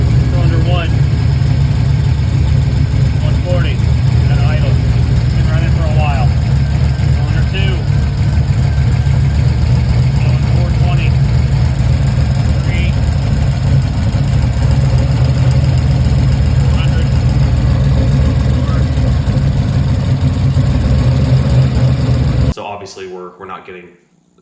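A Chevrolet Nova engine idles in cold weather with a misfire, a loud, steady low rumble that holds for over twenty seconds before cutting off suddenly, with a voice talking faintly under it.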